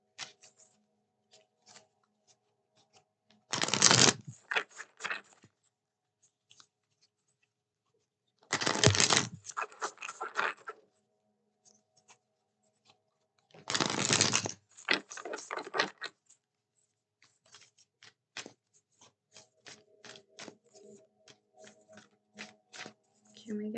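Three quick riffles of Moon Wish Oracle cards being shuffled, each a crisp burst of papery fluttering spaced a few seconds apart, with light tapping and handling noises between them, up close and quiet.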